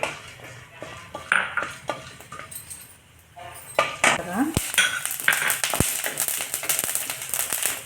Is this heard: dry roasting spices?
yes